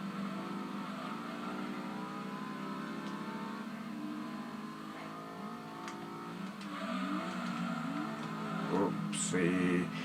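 A video game car engine played on a JXD S7800b Android gaming tablet revs and whines with a steady mid-pitched drone, rising louder near the end, while someone talks over it.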